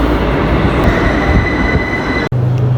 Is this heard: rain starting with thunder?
no